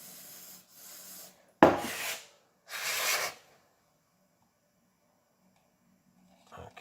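Rough rubbing strokes clean a small part from a Fox Float rear shock, two loud scrubbing bursts with lighter brushing before them and a faint knock at the end, close and with no talking.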